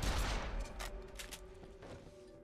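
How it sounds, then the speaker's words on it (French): Gunfire in the action video game Stranger of Paradise: a rapid burst of shots up front, then several separate sharp cracks spaced out over a fading background, fairly quiet overall. "Je tire partout."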